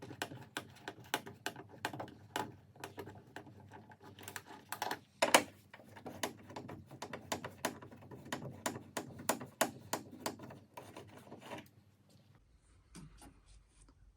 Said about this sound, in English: Got two T30 torque screws to remove on the top of the headlamp assembly.